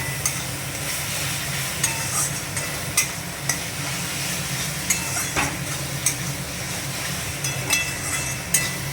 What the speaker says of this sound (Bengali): মশলাটার সাথে হলুদটা ভালো করে নেড়ে নিলাম।